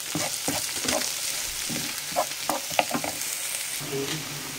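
Handful of curry leaves sizzling in hot oil while being stirred, a Goan Konkani-style poha tempering; steady close crackle with repeated scraping stir strokes, no talking.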